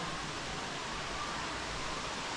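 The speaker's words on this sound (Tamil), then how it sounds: "தண்ணி ஊற்றுதுங்க. தண்ணி ஊற்றுறது தெரியுதா?" Water pours at Jalagamparai waterfall as a continuous, even rush of broadband noise. The roar is steady and moderately loud throughout, with no voices.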